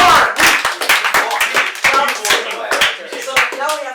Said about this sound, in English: So can we get a round of applause for Ethan?